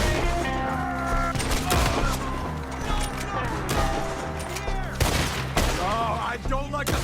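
Dense gunfire in the Western video game Red Dead Redemption 2, rapid overlapping shots and booms in a steady battle din with music, while a voice shouts over the fighting throughout.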